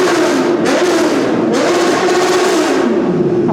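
A Royal Enfield Himalayan 450 motorcycle revs its exhaust on a night ride along Carter Road in Mumbai, a loud, close engine roar rising and falling in a few sustained surges with no voices.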